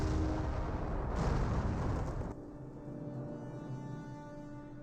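Artillery fire in the Company of Heroes video game, a heavy, rumbling boom sustained for a couple of seconds before dropping to a lower, droning background, loud and close with no talk.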